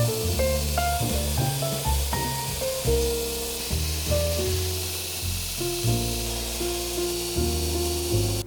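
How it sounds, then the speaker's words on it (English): A hot hand-forged custom knife blade with a thick spine and thick edge plunges into a quench oil bath, giving a steady broad sizzle that runs under prominent music. "And now for the quench."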